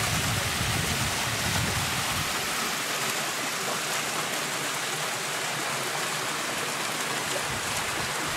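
A small waterfall spills into a murky mountain lake at Panagia in Crimea, making a steady, close rushing splash of falling water that stays constant throughout with no voices.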